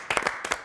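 Audience clapping at a French-language talk event, with several loud broadband bursts of hand claps in an uneven rhythm, close and fairly strong, without talk.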